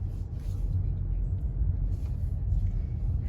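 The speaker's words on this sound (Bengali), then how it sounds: "সো আমরা এখন পার্কিং করছি।" A car being parked, its engine a steady low rumble close by, with faint voices in the background throughout.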